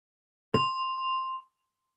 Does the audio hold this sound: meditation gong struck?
yes